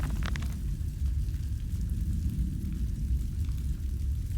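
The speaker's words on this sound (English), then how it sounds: "The engine fires, the flames are stoked." The engine fires and its flames are stoked in the game Amnesia: A Machine for Pigs, giving a steady low, heavy rumbling roar with a few brief crackles near the start.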